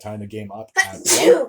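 A single loud sneeze bursts out right after a stretch of a man's speech, near and brief.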